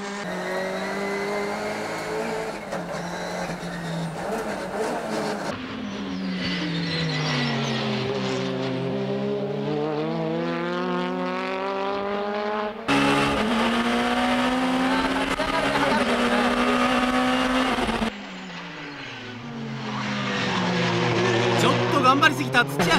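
A 280 hp naturally aspirated Honda Civic and a 400 hp turbo Nissan Silvia race cars roar close together on the Ebisu track, engines revving up and down through shifts with tire squeal, under a commentator's voice.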